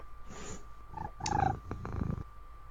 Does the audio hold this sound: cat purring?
yes